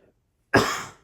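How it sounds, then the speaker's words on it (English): A single harsh cough bursts out close and loud after a moment of near silence, then trails off quickly. "now I'm starting to freaking cough because I've been talking too long"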